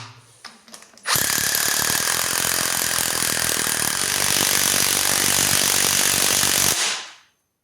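Impact wrench tightening a bolt on a Fiat Scudo 1.9 DW8 diesel engine during a timing belt job: after a few faint clicks, one long, loud continuous hammering burst of about six seconds runs alone before cutting off.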